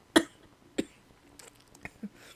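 A man coughs during a spoken talk: one sharp burst, then a second a little later, followed by faint throat noises close to the microphone.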